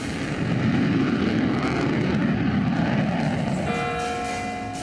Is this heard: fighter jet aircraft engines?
yes